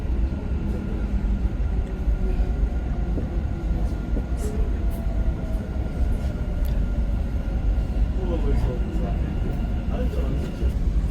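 A Dubai Metro train runs at the Airport Terminal 3 station, a steady close rumble and whine of the train filling the whole stretch, with faint clicks and people's voices mixed in.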